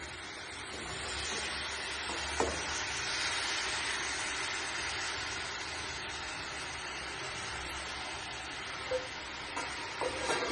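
Jaggery and sesame cook in a pan, with a quiet, steady bubbling sizzle and a few faint clicks of stirring, heard alone without speech.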